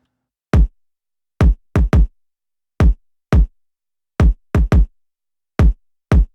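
A pop-rock chorus kick drum pattern, punchy isolated kicks in an uneven, syncopated rhythm with some close doubled hits, loud and dry with nothing else playing.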